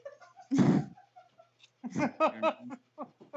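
One sharp, explosive sneeze bursts out, followed a moment later by voices talking.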